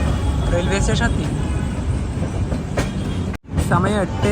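The Patna Express pulls into Vijayawada Junction station, its steady rolling rumble and faint clatter continuing under nearby voices until a brief sharp dropout near the end.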